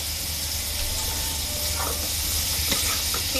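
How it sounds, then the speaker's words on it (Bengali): Bangus fish fries in a spiced onion masala with a steady, close hiss and sizzle, with a few faint clinks over the continuous frying. "বাইং মাছটা একটু কষায় নেব।"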